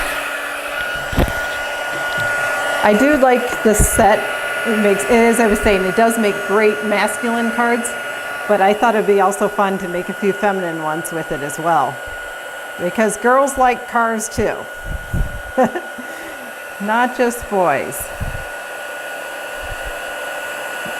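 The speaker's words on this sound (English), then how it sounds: "And I'll bring in my heat gun." A heat gun's continuous loud, whooshing blower roar runs throughout while someone talks over it.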